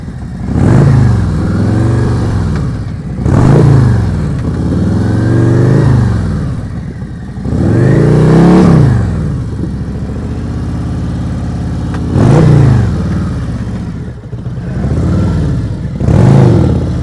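A motorcycle ridden in slow-speed practice, its close engine repeatedly revving and easing back in regular swells over a steady idle, loud throughout.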